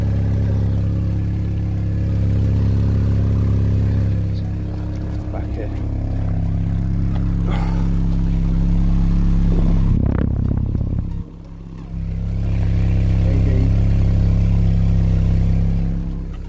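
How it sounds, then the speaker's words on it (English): A Mini Cooper S engine with an exhaust leak idles close by with a steady, throbbing rumble and a chuffing exhaust note, briefly dipping before running on. "so the exhaust is blowing"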